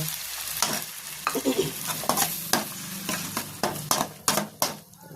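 Onions and asafoetida sizzle and fry in a pan while a utensil stirs them in repeated scraping strokes, close up with no talk.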